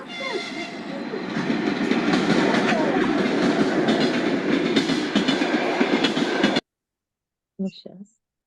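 A train rumbles past loudly with clattering wheels for several seconds, then cuts off abruptly, followed by a brief voice.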